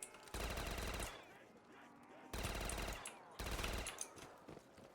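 Bursts of Death Machine minigun fire in Black Ops 3 Zombies, three sustained rattling volleys about a second long each, separated by short pauses, heard fairly faintly with no talk over them.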